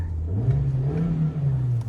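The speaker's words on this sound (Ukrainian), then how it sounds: "Двигун працює чітко, оберти не плавають" A Volkswagen Jetta engine hums steadily at a low idle-like rev, with a slight rise and fall in pitch, close and continuous throughout.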